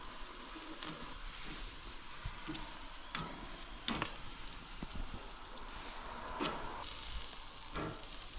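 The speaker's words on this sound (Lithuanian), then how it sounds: "Kol dešrelės kepasi, ruošiam bandelės." Sausages fry in a pan with a steady, soft sizzle, broken by occasional sharp clicks and scrapes of stirring, close and alone without talk.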